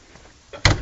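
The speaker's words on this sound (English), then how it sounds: "I can hear the door opening." A door opens with a faint scrape that leads into a sudden loud knock or thud at the end, heard close and alone.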